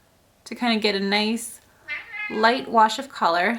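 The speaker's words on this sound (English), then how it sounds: "Sorry about my cat, he is so loud." A pet cat meows loudly and repeatedly close by, long drawn-out cries in several bursts, while someone speaks between and over them.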